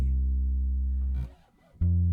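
Sustained low bass guitar note ringing steadily from a cycle-of-fourths sequence, fading briefly before a second deep note starts, clear and close with no voices.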